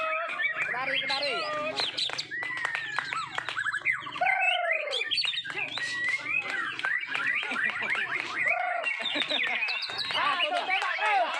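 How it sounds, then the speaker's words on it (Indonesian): Canary singing at a bird song contest, bright rapid chirps and trills repeating throughout amid other birds, with people talking and shouting close by. "Kenari itu mana kenari itu?"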